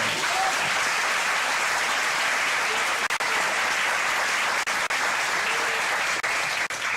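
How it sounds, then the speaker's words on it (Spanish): Sustained, dense applause from a church congregation welcoming first-time visitors, steady and fairly loud throughout with no speech over it. "¿qué tal si les damos un aplauso de bienvenida a ellos?"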